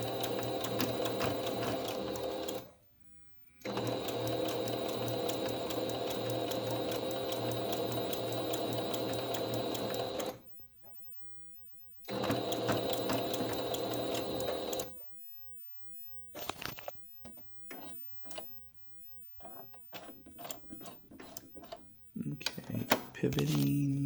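A sewing machine stitches fabric for a medical mask with bias tape, running in long steady bursts of motor whir and rapid needle clatter, broken by short pauses and then choppy start-stop stitching as the fabric is pivoted around a curve.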